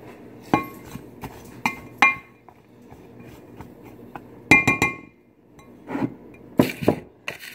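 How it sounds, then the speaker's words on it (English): A metal spoon clinks against a pan or bowl while stirring garlic for chicken fajitas, giving sharp scattered taps in small clusters with quiet gaps between them. "Let me get a spoon to stir this up a little bit."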